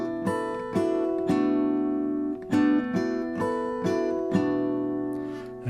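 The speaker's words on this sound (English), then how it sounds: "the second pattern where I added the regular note," Guitar harp harmonics ring out in an arpeggio pattern with an added regular fretted note, bell-like tones overlapping in steady plucked groups, clear and close with no talking.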